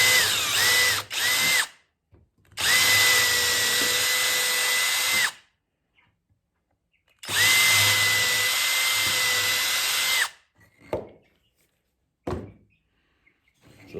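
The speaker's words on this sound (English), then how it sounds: "I'm gonna drill 2 pilot holes." Power drill boring pilot holes into a 5 gallon plastic bucket: two long whining runs of about three seconds each, plus a few short bursts, with quiet gaps and clicks between, close by.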